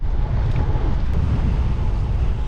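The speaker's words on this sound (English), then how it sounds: "It is super windy out this morning." Heavy wind buffets the microphone during a bicycle ride into a headwind, with a constant low roar and rumble, steady throughout with no other sounds standing out.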